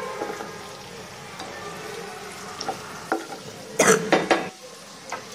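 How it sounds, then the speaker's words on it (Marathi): Paneer shallow-fried in a pan and gently stirred to coat it in masala: a soft, steady sizzle runs throughout, broken by a few clinks and a brief burst of spatula scraping against the pan near the end. "या पद्धतीने हलक्या हाताने स्टेअर करायचं किंवा पॅनच डायरेक्ट हलवायचा"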